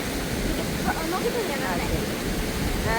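Water pours over a check dam waterfall in Attappadi, a dense steady rushing roar heard up close without a break.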